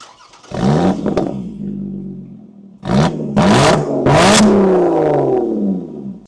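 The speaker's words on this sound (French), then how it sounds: "un échappement qui fait un potin pas possible" A Lotus sports car's V6 exhaust revs loudly and close by: a sustained engine note, then a gap and three sharp, roaring blips that rise and fall, with no voices.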